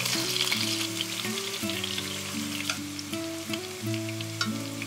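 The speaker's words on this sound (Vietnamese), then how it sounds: "Dầu nóng rồi thì mình cho khoai vào chiên." Potatoes fry in hot oil in a pan, crackling and sizzling steadily with a bright, continuous hiss under background music.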